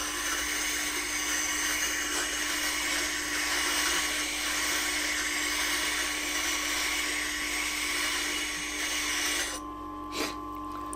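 A filleting knife ground on a Tormek T8 sharpening stone, a steady high whirring grind with a constant motor hum, holding evenly before easing off near the end.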